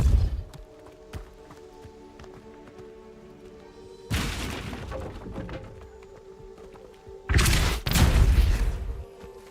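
Depulso spell cast in the game Hogwarts Legacy, heard as two loud whooshing blasts with deep thumps, one at mid-clip and a double burst near the end, over a quiet humming game backdrop.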